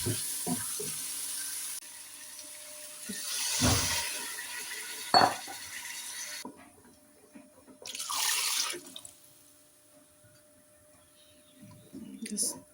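Water is poured into a pot of potatoes and minced meat while it cooks, with bursts of splashing and tap-like gushes, clinks of utensils and a few quieter gaps between pours.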